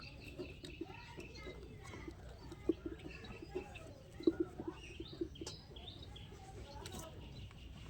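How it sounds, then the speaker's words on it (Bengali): Giribaz bele pigeons, a pair among others, cooing softly in scattered low calls amid faint chirps and background murmur, fairly distant and quiet. "আরও এক পেয়ার গিরিবাজ বেলে পায়রা দেখতেই পাচ্ছেন বন্ধুরা"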